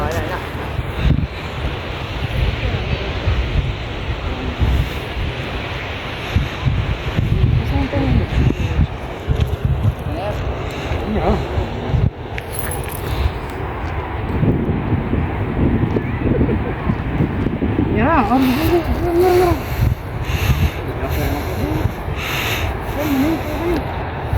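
A sea breeze gusts along the seashore in Northern Ireland, a continuous low rumbling buffet of wind across the microphone with faint surf beneath and occasional voices.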